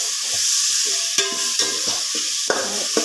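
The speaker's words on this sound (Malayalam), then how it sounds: "ഇതിലേക്ക് ഇപ്പോൾ നമ്മൾ തക്കാളി ഇഞ്ചി വെളുത്തുള്ളി പച്ചമുളക് ഒക്കെ കൊടുത്തിട്ടുണ്ട് കേട്ടോ അപ്പോൾ വേഗം വാടി" Tomato, ginger, garlic and green chili sautéing in a pan for a quick biryani, a steady close sizzle broken by several sharp clinks and scrapes of a stirring spoon.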